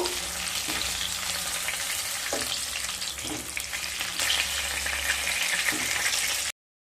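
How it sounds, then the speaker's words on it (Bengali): Dried red chilli, split cardamom pods, cloves and a little cinnamon sizzle steadily in hot oil left from frying rohu fish, with a continuous close crackle and a few soft scraping stirs scattered throughout; no voices. "এবার ওই তেলের মধ্যে একটা শুকনো লঙ্কা, 3টা ফাটিয়ে নেওয়া এলাচ, 4টে লবঙ্গ, সামান্য দারচিনি দিয়ে একটু মিশিয়ে নেব।"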